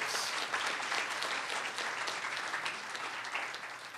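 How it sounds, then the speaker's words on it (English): An audience at a UNICEF mid-term review opening in St. Kitts and Nevis gives a sustained round of applause, dense and steady throughout with no talking over it. "Let us give them another round of applause."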